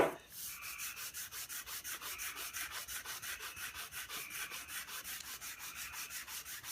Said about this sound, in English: So sand, sand, just in a forward motion.